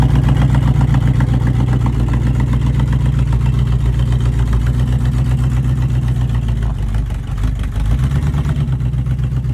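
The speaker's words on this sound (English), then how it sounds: "the engine turned over and the truck started up" A 1966 Chevy C10 pickup engine with a failing carburetor accelerator pump runs steadily close by, a loud low idle with a rhythmic throb and a slight dip in revs toward the end.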